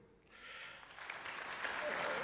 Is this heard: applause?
yes